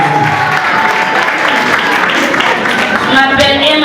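An audience at a New Year's Eve party applauds children introducing themselves: a dense patter of clapping from a crowd, with voices talking over it.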